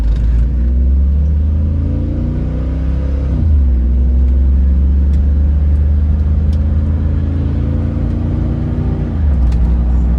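A Cadillac Escalade accelerating at about half throttle, its engine droning loud and close with rising pitch, then a gear shift dip and another climb, steady road rumble throughout.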